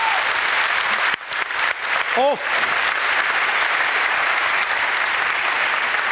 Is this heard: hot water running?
no